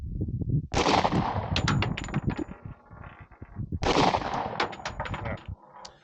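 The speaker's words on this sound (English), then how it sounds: "We are going to be shooting some national match ammunition, so this stuff should be fairly accurate out of this gun." A 10mm 2011 pistol fires national match ammunition in two quick strings of sharp, loud reports, with echoing tails and a brief lull between the strings.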